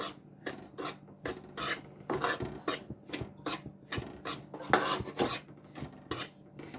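Besan flour being roasted in ghee in a pan over a low flame and stirred with a metal spoon, giving repeated scraping strokes in an uneven rhythm, close and fairly quiet.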